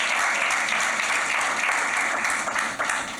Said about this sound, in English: So can I get a round of applause for my staff?